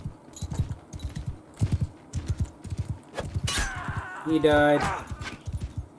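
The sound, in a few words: horse hooves clip-clop in Mount & Blade II: Bannerlord video game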